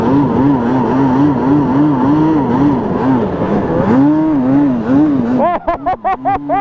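A Yamaha Banshee 350 two-stroke quad revs hard during a burnout, a loud, close, rasping engine wavering in pitch, then breaking into rapid choppy blips at the end.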